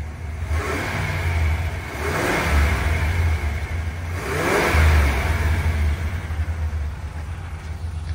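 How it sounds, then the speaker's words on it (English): A 1979 Chevrolet Impala engine revved twice with the car standing still, each surge of throttle rising from a steady idle rumble and settling back, loud and close with no talk. "let me hit the gas so you can hear that motor"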